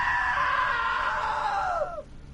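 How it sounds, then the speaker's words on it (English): A sustained, loud scream from a character in the video game What Remains of Edith Finch, holding steady for about two seconds before dropping off sharply in pitch. "Now that was a great scream."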